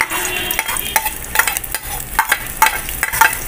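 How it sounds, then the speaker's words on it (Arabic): Chopped onions sizzle in hot oil in a pan for a sauce, a loud, close, continuous crackle broken by scraping stirs, with no voices. "حطينا بقى ايه اهو شويه زيت كده ورشهم كده مع الزيت والبصله ونحط بقى البصل"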